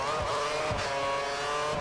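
A 2014 Ferrari Formula 1 car in a racing game mod at the Monaco Grand Prix qualifying session, with a loud, steady high-pitched engine whine droning continuously behind, several faint thumps underneath.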